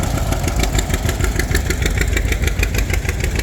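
A tractor engine idles steadily up close with a low, even chugging rumble that runs unbroken, with no voices over it.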